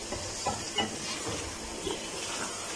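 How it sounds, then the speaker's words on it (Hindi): Masala for goat liver curry fries slowly in oil, giving a continuous soft sizzle and hiss with a few faint stirring knocks, heard up close without speech. "आहिस्ता आहिस्ता हम इसको मज़ीद भून रहे हैं यहाँ तक कि मसाला और ऑयल अलग हो जाए।"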